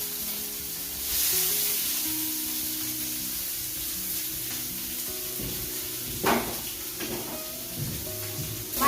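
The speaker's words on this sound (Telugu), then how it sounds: "ఈ పోపులు వేసుకున్నాక మనం కోసి పెట్టుకున్న పచ్చిమిర్చి, ఉల్లిపాయలు కూడా వేసుకుంటున్నాము." Chopped green chilies and onions dropped into hot oil tempered with cumin and mustard seeds for masala dosa filling: a loud continuous sizzle and hiss, with a burst of crackling and stirring near the end.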